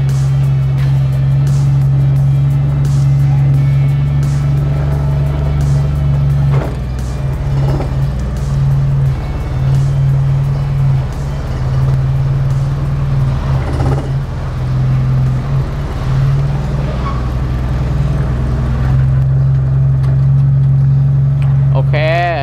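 A handmade car built entirely of rosewood is driven, giving a loud, steady engine drone with a constant low hum heard from inside for over twenty seconds while someone talks throughout.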